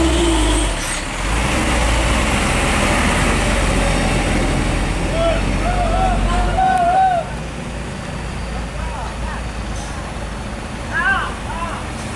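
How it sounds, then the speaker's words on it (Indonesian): A Fuso truck pulls aside on a partly blocked road, its heavy diesel engine rumbling loud and steady, then easing off as it moves away, with brief air-brake squeals and people talking over the traffic noise. "dan truk ini akan menyingkir sejenak supaya jalannya bisa terbuka kembali"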